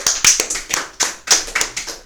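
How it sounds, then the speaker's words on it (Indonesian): Audience clapping at a coffee-themed event, with about eight sharp claps in an uneven rhythm from a small group, close and loud with no talk over it. "tepuk tangan untuk JNE"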